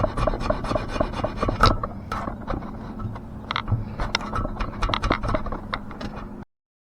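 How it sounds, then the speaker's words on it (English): A razor blade scrapes old adhesive off a Mach 2 loudspeaker frame in steady, rasping strokes, close and fairly loud, running continuously with no talk. "Here's the part where I use a razor blade to get the adhesive off of the frame."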